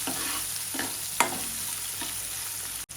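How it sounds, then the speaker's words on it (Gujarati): Chopped tomato and green chili sautéing in hot oil for a masala dosa sambhar, with a steady soft sizzle broken by a few stirring scrapes, one sharper clatter near the middle, and no talking. "બધું તેલમાં મિક્સ કરી લઈશું. ટામેટું થોડું સોફ્ટ થાય ત્યાં સુધી સાંતળી લઈશું"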